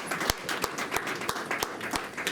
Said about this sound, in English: Let's give another lovely hand of applause for our lovely panel